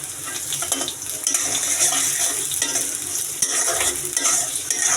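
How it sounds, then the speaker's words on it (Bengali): Chopped onions tumble into a hot oiled pan and sizzle loudly for kalmi shak bhaji with naga chillies, with steady frying hiss and intermittent scraping and clinking of a spatula stirring against the pan. "আর এই যে পেঁয়াজ সবগুলো ঢেলে দিচ্ছি।"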